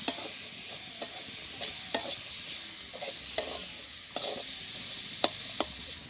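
Onion, garlic and green chilli frying with turmeric in a pan, a steady soft sizzle broken by several sharp scraping stirs of a spoon, close and fairly quiet with no talking.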